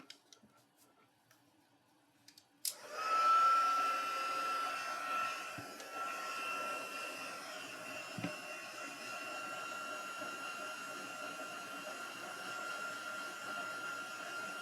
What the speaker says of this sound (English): Grab our heat gun.